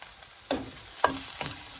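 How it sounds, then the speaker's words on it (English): Onions sautéing in a little olive oil in a pan, with three quick stir scrapes over a soft, close background sizzle, no voices. "I'm just gonna toss my onions in and get those sauteed up first"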